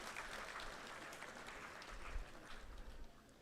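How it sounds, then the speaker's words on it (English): Audience applause at a national felicitation ceremony for UPSC rank holders, a dense, steady wash of many hands clapping, heard faintly as if from a distance. "that calls for a big round of applause."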